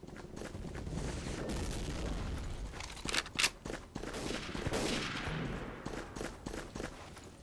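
Grenade explosions and gunfire in the video game Day of Defeat: Source, with a sharp loud blast cluster mid-way amid continuous distant rifle and machine-gun fire and footsteps.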